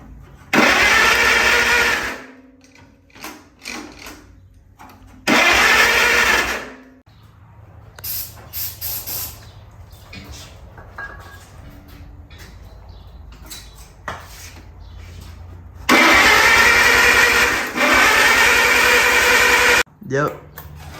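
Antique 1945 Farmall tractor engine cranking and trying to start in loud broadband bursts of roughly two seconds, three separate attempts with quieter shop noise and clatter between them; people talk during the pauses.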